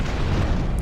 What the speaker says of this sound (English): Order our cannons here to open fire